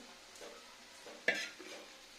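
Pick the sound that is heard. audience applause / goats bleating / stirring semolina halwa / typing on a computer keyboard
stirring semolina halwa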